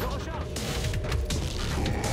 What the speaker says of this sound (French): Je remets des munitions.